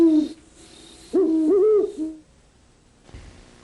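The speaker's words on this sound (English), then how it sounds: "hear the voice of the great horned owl" A great horned owl, common in suburban areas, gives a few deep, resonant hoots in a short series, clear and fairly close against a quiet background, with a brief pause and a soft thump near the end.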